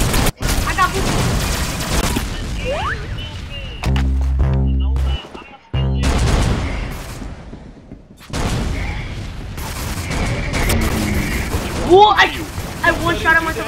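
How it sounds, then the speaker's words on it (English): Video game RPG rocket fire and explosions in an Arsenal shooter match, loud bursts and booms with gaps of near silence, heavy blasts dominating, with people talking over parts of it. "I one shot at myself with the RPG."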